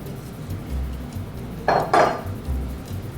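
Wet ingredients for gluten-free vegan pumpkin bread being mixed in a bowl: soft, low stirring and sloshing with two brief clinks of a utensil against the dish, close and moderate.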